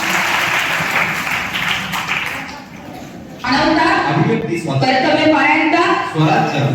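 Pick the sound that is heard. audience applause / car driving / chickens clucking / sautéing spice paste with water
audience applause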